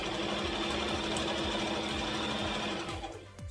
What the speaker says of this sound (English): So now I'm gonna create my backward stitch.